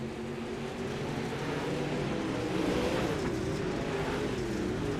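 Dirt late model race cars roar at the green flag of an eight-lap heat race, a dense, steady engine drone from the pack with a slight swell midway, continuous and fairly distant.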